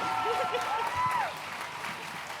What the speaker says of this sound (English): A big round of applause for all of our fantastic contestants.